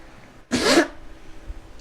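A person imitates a wet sneeze with a single short, loud, spluttering burst, close and otherwise quiet.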